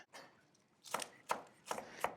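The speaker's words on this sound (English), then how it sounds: "all I'm going to be doing is just chopping this up." Knife chopping scallions on a cutting board, a few sharp, crisp thuds spaced unevenly after a soft scraping start, close and clear with no talking.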